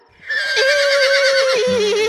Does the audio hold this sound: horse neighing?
yes